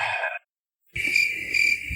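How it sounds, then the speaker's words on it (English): Crickets chirp in a steady, high, shimmering trill, broken by a brief gap of silence before the continuous chorus resumes, fairly loud and close with no talking. "I mean those crickets."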